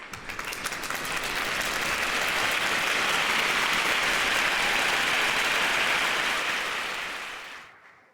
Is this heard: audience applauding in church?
yes